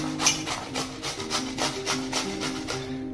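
Cucumber grated by hand for Marathi kakadicha gharya, a steady run of rhythmic rasping strokes about four or five per second, close and fairly loud with no talking.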